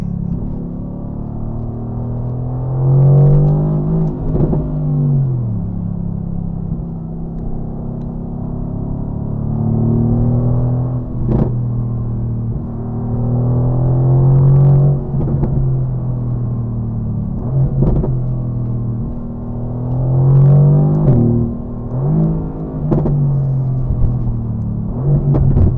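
A 2018 Mercedes-AMG GT R's engine drones and swells through repeated revs while driving, loud and steady from inside the car, with brief sharp gear-shift blips punctuating the rising pulls.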